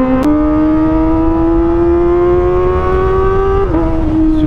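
A Kawasaki ZX25R motorcycle fitted with an Arrow Pro Race exhaust revs loud and close, holding a steady high-pitched scream that climbs gradually, with a brief blip near the end.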